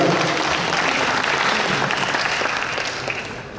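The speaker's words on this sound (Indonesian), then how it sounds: "Kasih aplaus untuk dua Fakultas Dirasah Islam." Applause from a seminar audience for the Faculty of Dirasah Islam, a dense, steady patter of many hands clapping close by, fading slightly toward the end with no talk over it.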